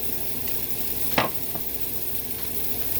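Meat frying in a pan for a breakfast burrito, with a steady close sizzle and one sharp clink or scrape of a utensil partway through, no talking.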